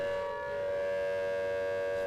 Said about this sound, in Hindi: तो जम्मू में सुनी गई सायरन की आवाज